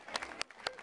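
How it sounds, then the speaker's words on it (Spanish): Sparse, scattered claps from a crowd at a women's race finalists' ceremony, a few loud distinct hand claps over a low murmur of people. "Fuerte, fuerte el aplauso."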